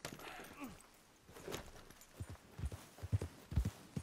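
Horse hooves clip-clop at a walking pace in Red Dead Redemption 2, the steps growing louder and more regular toward the end.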